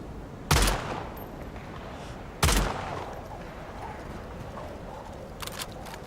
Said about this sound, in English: the AI over there have been shooting for 20 minutes